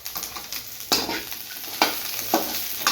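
A spoon scrapes and stirs paneer butter masala in a sizzling pan, with a few sharp, close strokes spaced about a second apart over a steady frying hiss, and no talking.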